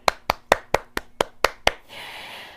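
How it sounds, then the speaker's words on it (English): Audience at a morning coaching talk claps together in unison: eight sharp, evenly spaced claps, then a softer, diffuse wash of noise as the clapping breaks up. "Let's applaud each other."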